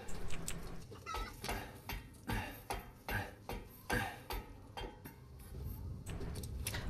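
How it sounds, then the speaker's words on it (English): Chickens cluck in the video game Resident Evil Village, a scattered run of short clucks and scratchy noises over a busy game background, fairly quiet overall. "Seriously, the chickens are lagging me out."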